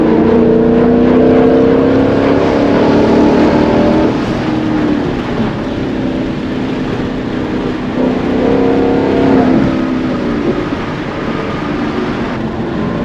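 A car driven at night in Sport Plus mode, shifted with paddle shifters, gives a loud, close engine drone that rises and falls with revs, with an audible shift around the middle and no talking.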